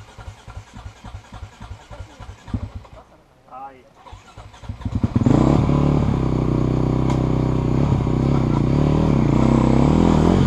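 A dirt bike at an enduro race starts up after some talking and then revs loud and close, roaring steadily with shifts in pitch as it pulls away.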